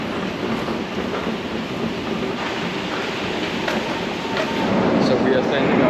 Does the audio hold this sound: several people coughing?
no